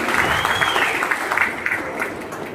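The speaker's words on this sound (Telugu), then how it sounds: "ప్రతి ఒక్కళ్ళు గట్టిగా చప్పట్లతో కృతజ్ఞతలు తెలియజేయాలి" A live audience at a public event breaks into applause, a dense, close clapping that holds strong and then eases slightly toward the end, with faint crowd murmur underneath.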